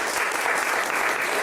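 A group of friends gathered for an Austin marathon weekend bursts into loud, dense clapping for Dylan Vergara, a close, continuous wash of applause with no talking.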